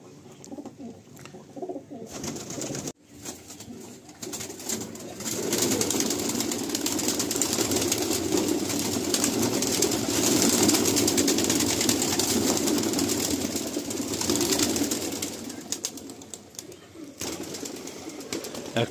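A loft full of pigeons coos steadily in Kolkata, a dense, continuous murmur of soft calls with occasional wing flaps and a faint engine hum, swelling louder through the middle.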